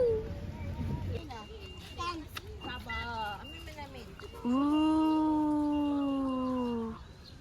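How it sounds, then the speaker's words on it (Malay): A dog howls in drawn-out, wavering rising and falling tones on a highland hike in Cameron Highlands, with a long sustained howl near the end; children's voices and talk are mixed in throughout. "Anjing."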